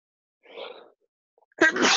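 A single sneeze bursts out at the end of an interview, preceded by a short, soft sharp intake of breath, close to the mic with no talking around it.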